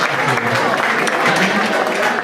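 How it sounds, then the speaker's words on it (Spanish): Pub crowd at a folk concert bursts into loud, sustained applause and cheering, the clapping dense and continuous with voices mixed in. "vamos a dar un fuerte aplauso por venir aquí a darnos un aplauso"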